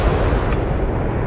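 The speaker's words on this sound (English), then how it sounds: "A massive explosion followed." A Ukrainian drone strike hits a halted Russian armored carrier, setting off its ammunition: a loud, dense blast roar fills the whole moment with heavy low rumble and no voices.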